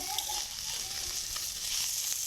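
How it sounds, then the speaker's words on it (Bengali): Paneer cheese frying in a pan, a steady hissing sizzle of hot oil that stays even and fairly close throughout. "পনিরটা এভাবে একটু ভাজি"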